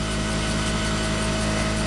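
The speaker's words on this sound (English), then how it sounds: "You hardly noticed any change in the motor." A modified DC motor running on battery power at about 3,100 RPM turns the crankshaft of a 10 kW generator, producing a steady, loud, continuous mechanical whir with a constant tonal hum and no pauses.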